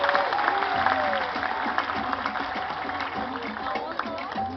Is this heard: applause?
yes